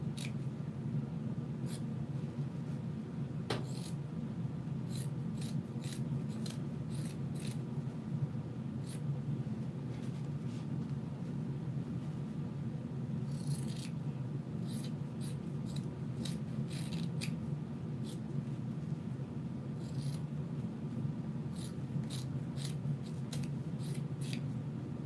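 Scissors snipping away excess fabric lining, a string of short crisp cuts at an irregular pace over a steady low room hum, close and fairly quiet, with no talk.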